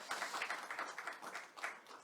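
Audience at a teachers' forum applauding two association presidents, a steady wash of many hands clapping at moderate distance, continuous with slight swells throughout.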